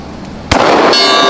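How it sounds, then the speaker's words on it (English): One close, loud shot from a 10mm Glock Gen 3 pistol, followed a moment later by a bright metallic clang and lingering ring as the round strikes a steel gong. "See if I can hit the gong."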